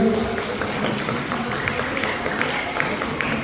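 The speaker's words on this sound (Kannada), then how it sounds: "ಜೋರಾಗಿ ಚಪ್ಪಾಳೆ ಮುಖಾಂತರ ಧನ್ಯವಾದಗಳನ್ನು ಸಲ್ಲಿಸ್ತೇವೆ" Steady, moderately loud applause from a crowd of students at a school parliament election in a residential school, dense clapping continuing throughout.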